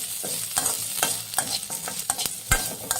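Cinnamon, clove, ginger and pepper fry in a pan for a mutton paya leg soup, sizzling steadily under frequent clinks and scrapes of a spoon stirring the spices.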